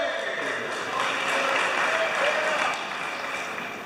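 Audience at a hackathon breaking into steady applause with some cheering, a dense crackling wash of claps that swells slightly midway and holds through to the end.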